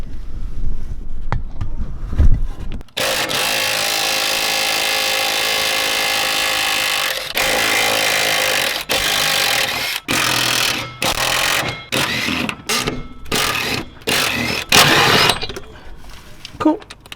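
A power tool whirs steadily while removing the last bolt of a car's gearbox mount from its bracket, then runs in short on-off bursts toward the end.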